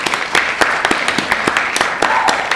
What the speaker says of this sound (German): Applaus für Sarah Leutenegger.